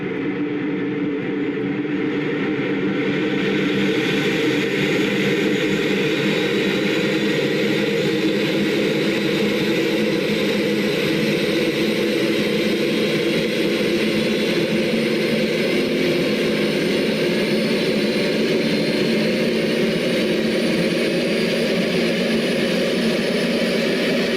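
A simulated Airbus jet engine runs steadily in a flight simulator game, a loud continuous whine and roar with a bright high tone, holding level throughout with no talk.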